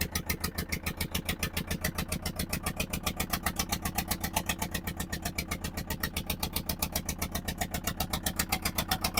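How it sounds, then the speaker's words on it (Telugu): A car engine idles near a film set in Puttlagudem, Palnadu district, a steady close-up throb with a fast even pulse that holds for the whole stretch, with no voices. "మళ్ళీ తర్వాత కారు వచ్చింది."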